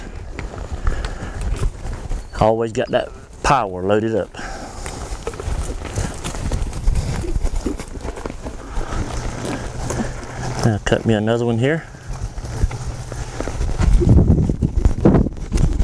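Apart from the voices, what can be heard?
cutting horse working a cow, hoofbeats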